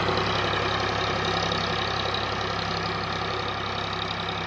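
A tractor engine pulling a ridge-making implement through a farm field, giving off a continuous, even drone close by with steady loudness throughout and no speech.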